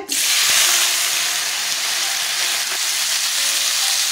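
Potatoes, just added after frying peanuts, fry in hot oil with a loud, continuous sizzle and hiss, up close, and a faint knock or two near the start.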